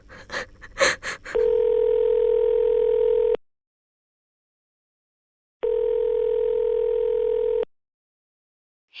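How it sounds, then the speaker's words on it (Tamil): A WhatsApp call ringback tone on a phone plays as two steady, loud two-second bursts separated by silence, with brief breathy sounds at the start. "வாட்ஸ்அப் கால் பண்ணலாம்."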